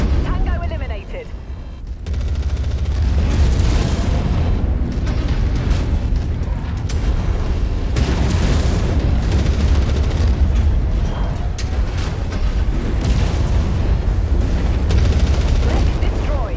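Heavy booming explosions and artillery fire rumble from a MechWarrior 5: Mercenaries battle, loud and nearly continuous after a quieter opening, with deep rolling blasts and radio-style voices speaking over the din.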